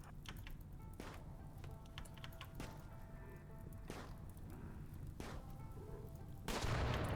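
Gunfire in the colony-building video game RimWorld: a series of quiet, sharp single shots spaced about a second apart, ending in a louder burst at the end.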